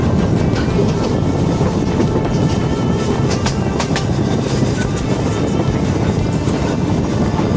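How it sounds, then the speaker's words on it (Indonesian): The Serayu passenger train of Indonesia's Kroya–Pasar Senen route passes close by, a loud continuous rumble of wheels and carriages with faint rhythmic rail clatter throughout. "Kereta api Serayu pun melintasinya tanpa banyak suara"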